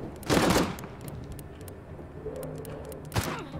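Bursts of war-zone gunfire from a survival video game, a loud rattling volley up front, quieter scattered clicks and shots in between, then another sharp burst near the end.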